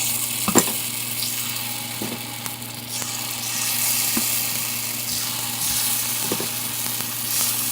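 Paniyaram batter sizzles in oil on an iron pan, a soft steady hiss with a few scattered sharp taps, moderately close and without speech.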